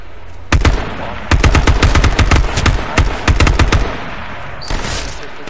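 Gunfire in the battle royale video game H1Z1, a loud opening shot followed by a long run of sharp, rapid bursts, then a lone shot near the end, with no talk over it.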